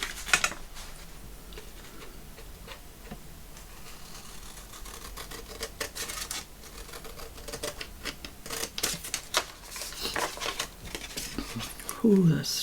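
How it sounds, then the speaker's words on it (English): Paper being cut with scissors for a shabby vintage handmade journal, giving a run of small crisp snips and clicks close by, with someone talking over much of it. "So let's cut this out"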